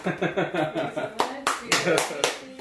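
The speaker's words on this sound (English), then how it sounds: "That was the awkwardest clap" An audience gives a brief, sparse round of hand clapping, about a dozen uneven claps with talk running underneath.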